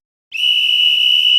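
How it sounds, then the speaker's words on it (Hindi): A single loud, steady whistle blast like a traffic police whistle, starting sharply and holding a shrill, unbroken tone for over a second with no other sound around it. "ये सीटी की आवाज है"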